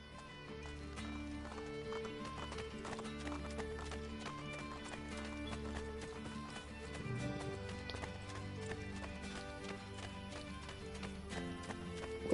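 A horse gallops in Assassin's Creed Brotherhood with rapid, steady hoofbeats over a continuous bed of game music, the pounding rhythm holding throughout the clip.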